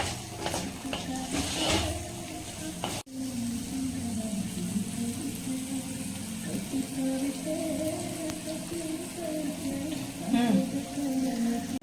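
Amla pickle bubbles and sizzles in a hot pan, a continuous crackle with stirring, a sharp clank of a utensil early on and a voice speaking over it.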